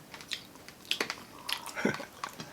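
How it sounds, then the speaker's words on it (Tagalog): Crunchy bites into crispy fried liempo pork belly at a Filipino mukbang, a quiet series of sharp, irregular crackling crunches with brief chewing, close to the microphone and without talk. "Malutong kasi, sarap kagatin."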